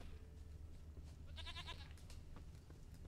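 A goat bleats once, close and clear, in the open-world fantasy game The Witcher 3, standing out over a steady low ambient rumble of the game world.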